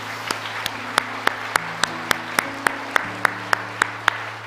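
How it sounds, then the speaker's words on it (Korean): Congregation in a church claps in a slow, regular unison rhythm, each clap crisp and distinct, over a steady sustained organ or keyboard chord that shifts pitch a couple of times. "하나님께 영광의 박수를 돌립시다."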